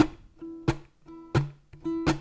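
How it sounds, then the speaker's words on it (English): A baritone ukulele gives three sharp percussive chunks from the strumming hand, each a short muted slap that briefly cuts off ringing strings between them. "Another right-handed sound is this chunk sound"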